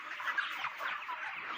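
Broiler chickens on a poultry farm clucking and chattering as they are stirred up, a dense, continuous flock noise close by with no talk.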